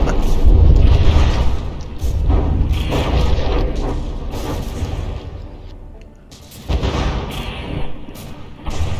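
Mortar volleys in the From the Depths naval battle game, with heavy booming explosions and deep thuds in repeated bursts, loud and close, with a brief lull before another round of blasts.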